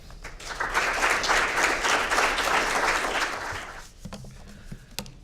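An audience at a Catholic social thought and family conference session applauds Father Sweeney with sustained clapping for about four seconds, then it fades into scattered claps and footsteps.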